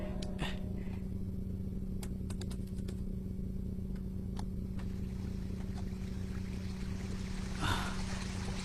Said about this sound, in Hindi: पानी की आवाज सुनाई देती है।